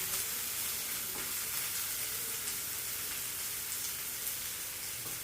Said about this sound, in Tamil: நல்லா இப்படி வதக்கிறோம் க கலர் மாற வரைக்கும் நீங்கள் வதக்கணும்